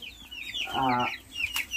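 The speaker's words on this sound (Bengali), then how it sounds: "আমরা একে একে সবগুলো দেখাবো আমাদের কাছে কি কি মুরগি আছে।" A foreign-breed fighter chicken clucks and squawks close by in a short burst, with a brief sharper call near the end.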